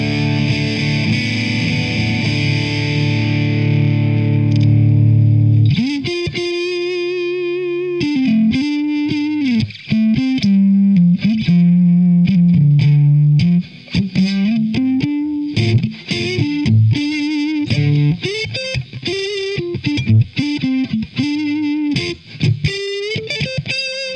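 Electric guitar played through a TC Electronic Dark Matter distortion pedal set to the voice-down position, loud and continuous: a held chord rings out, then a string of quick distorted single-note riffs and bends follow with no talking.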